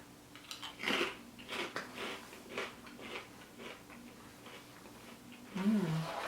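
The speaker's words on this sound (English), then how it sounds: "when you first bite into it, you think it's like a regular chip" Close, crisp crunching as a beet chip is bitten and chewed, with several sharp crackles in a row and a brief murmur at the end.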